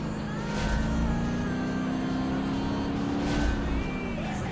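A supercar from the late 1980s at full throttle in BeamNG Drive, its engine note climbing steadily and droning loud and close without a break.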